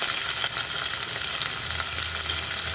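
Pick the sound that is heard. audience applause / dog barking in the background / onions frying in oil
onions frying in oil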